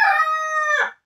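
A backyard rooster gives a single loud, close crow, a long sustained tonal call that breaks into a rough, fading tail at the end.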